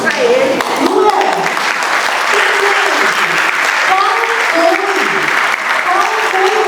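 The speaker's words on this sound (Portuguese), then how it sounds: "Palmas para ele." A room full of people at a neurodiversity symposium applauds continuously and loudly, with a voice speaking in Portuguese over the clapping throughout.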